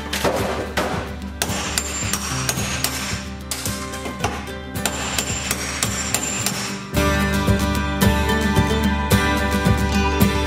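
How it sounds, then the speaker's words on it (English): Rapid, loud metallic hammer blows strike a chisel against screws in a dense, ringing rhythm, continuing steadily and growing heavier partway through, during wall removal inside a school bus. "I'm gonna have to do it the hard way, which means chisel and hammer"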